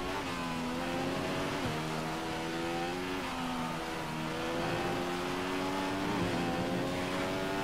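A race car runs through the wet at speed, its engine holding a steady high drone and stepping down in pitch through a few downshifts. The sound stays continuous and fairly close, with no voices.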